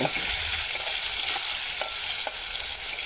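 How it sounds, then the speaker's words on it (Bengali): Chopped onion, green chilli and tomato fry with cumin in hot oil, giving a loud, continuous, close sizzle with a few faint stirring scrapes and no voices. "এবার তেলে জিরে ফোড়ন দিয়ে পেঁয়াজ কুচি কাঁচা লঙ্কা ও টমেটো দিয়ে ভেজে নেব"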